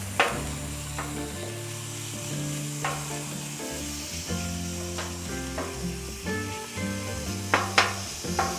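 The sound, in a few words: chopping steak on a griddle with a dough scraper, sizzling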